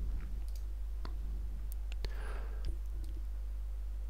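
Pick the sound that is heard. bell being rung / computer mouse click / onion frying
computer mouse click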